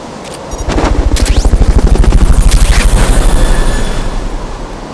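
Helicopter rotor chopping in the Metal Gear Solid Peace Walker video game, a steady loud rhythmic thump that swells in and holds, with a high whine and scattered sharp effects above it.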